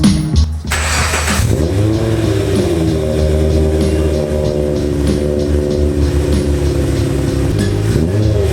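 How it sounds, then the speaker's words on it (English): Subaru Legacy with a custom-built driveshaft cruises at around 60 mph, a loud, steady engine and road drone inside the cabin, with a brief shift in engine tone early on and no speech. "So I got her out on our test road, cruising around 60 miles an hour"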